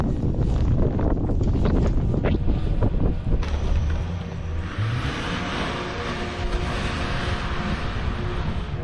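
Blizzard wind roars in a steady, loud, broad rush around a car stuck in deep snow, with gusty buffeting against the microphone throughout.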